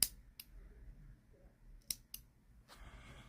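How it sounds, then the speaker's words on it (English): Scissors cut crochet yarn in a quiet room: a few sharp, brief snips spaced irregularly against near silence, with no voices. "once you've made that slip stitch, cut the yarn"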